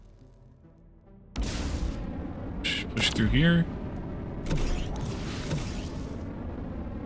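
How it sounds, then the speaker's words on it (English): A mine explosion strikes a character's shield in the video game Outworld Station, an abrupt loud onset followed by creaking, mechanical rumble and a couple of sharp bursts, with someone speaking over it. "My shield ate that whole mine explosion there."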